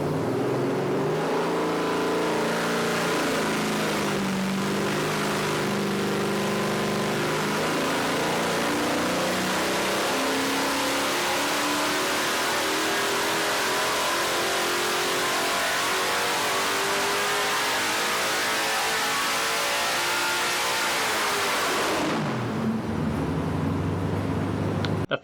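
Modified 5.7 liter Hemi V8 with mildly ported heads and an Edelbrock Dual-Quad intake, revving hard in a long sustained climb of rising engine pitch, loud and close, then cutting off abruptly near the end.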